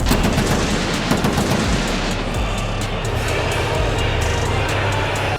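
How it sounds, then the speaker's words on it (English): Loud, dense rumble of a tank firing during a WWE WrestleMania 31 wrestling entrance, with rapid gunfire-like bursts over a steady crowd-and-machinery roar throughout. "bro came out on a freaking tank, looking like Ivan Drago at WrestleMania 31"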